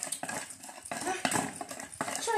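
Wooden spoon stirring leavened dough in a bowl, giving soft scraping, clattering strokes in irregular bursts at close range, with faint voices now and then.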